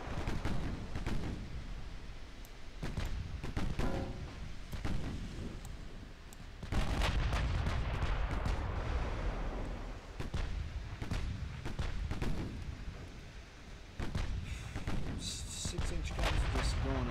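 Naval gunfire from six-inch and 16-inch guns in Ultimate Admiral Dreadnoughts sounds as repeated heavy booms and crackling salvos over a dense rumbling bed, with a big sustained barrage midway, and someone talks throughout.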